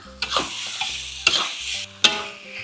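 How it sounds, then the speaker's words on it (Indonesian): Chicken pieces are stirred into spice paste frying in a pan for a chicken and young jackfruit curry. Three distinct scraping strokes of the spatula sound up close over a steady low sizzle. "bumbunya akan kita masak, tumis sampai dia tidak bau langu"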